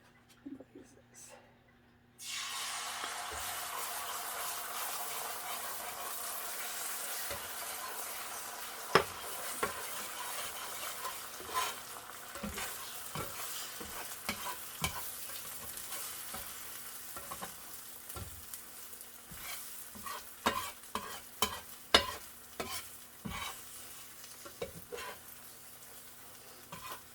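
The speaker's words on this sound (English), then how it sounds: "let's scramble our eggs" Eggs scrambling in a pan greased with bacon fat: after a brief quiet start, a close, steady sizzle fills the rest, broken by frequent sharp scrapes and taps of a utensil stirring against the pan.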